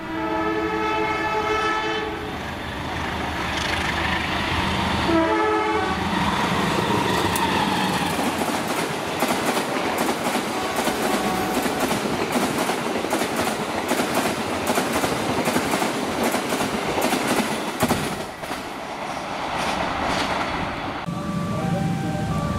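An Indonesian passenger train roars past close by with loud rumbling and clattering wheels, a long horn blast sounding at the start and again near the end.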